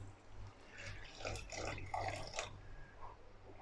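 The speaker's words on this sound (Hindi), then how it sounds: "पानी डाल रहे हैं हम इसमें" Water is poured into a white shahi paneer korma gravy in a pan, a faint gurgling splash lasting a couple of seconds, close but quiet over a low background hum.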